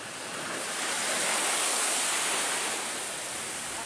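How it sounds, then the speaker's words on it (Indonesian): Sea waves surge over a coastal sea wall protecting nearby homes, filling the air with a loud, continuous broadband roar of rushing water that swells and eases slightly over a few seconds. "Ketinggian gelombang melewati bangunan tanggul pantai yang menjadi pembatas."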